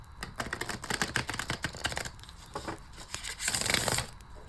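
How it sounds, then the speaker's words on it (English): Tarot cards being shuffled by hand, a quick run of soft riffling flicks and papery slaps close up, ending in a louder final riffle, no talk. "So one last shuffle."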